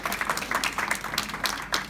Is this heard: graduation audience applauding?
yes